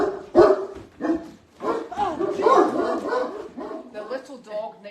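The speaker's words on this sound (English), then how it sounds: "The little dog next door's outside barking" A small dog barks outside next door, with several yapping barks mixed under and between close conversation from people talking in the room.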